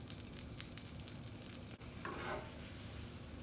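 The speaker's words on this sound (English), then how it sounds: "I'm just going to add a couple tablespoons of butter to a skillet and let that melt." Butter and honey melt in a hot skillet, giving a faint, even sizzle close by with a soft scrape of stirring partway through and no talking.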